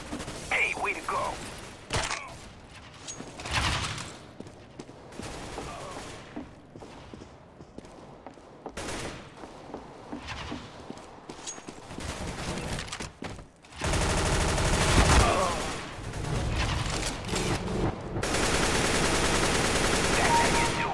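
Bursts of gunfire from the video game CS:GO come in rapid volleys and single cracks, loud and close, mixed with game mechanisms. Players talk over the shooting at points.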